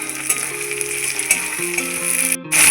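Chopped tomatoes frying in a pan with ginger and garlic, giving a steady close sizzle that grows slightly louder toward the end, over a low background hum.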